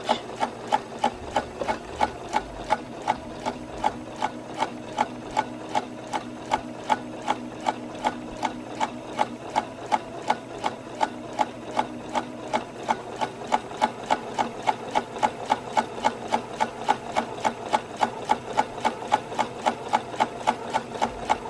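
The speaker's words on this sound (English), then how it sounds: "And then pivot and start sewing along the other edge." A sewing machine stitches along the edge of fabric for a baby pacifier clip, running at a steady, fast mechanical rhythm of even needle clatter close by with no break.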